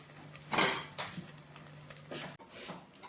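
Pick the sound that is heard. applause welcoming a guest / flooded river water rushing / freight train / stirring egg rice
stirring egg rice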